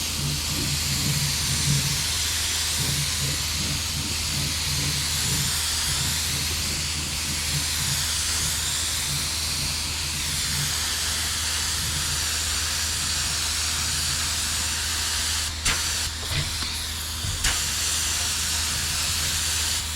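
A spray gun lays base coat over a small spot repair on a dented car panel, giving a steady, continuous hiss that runs throughout at an even level with a low hum beneath.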